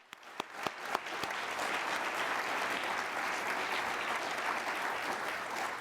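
An audience at an airport's annual public meeting breaks into applause for an award, starting with a few sharp claps and swelling into steady, sustained clapping that continues to the end.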